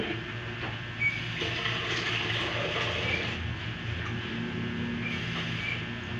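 Water pours steadily into a pot, a continuous splashing rush with a low bubbling undertone throughout.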